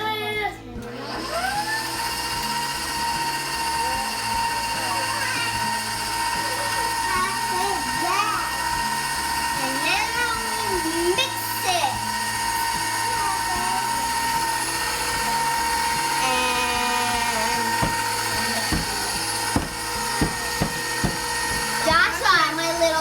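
A steady, loud whirring drone of a kitchen mixer whipping banana chocolate chip muffin batter runs throughout, under a voice talking as kids bake at home.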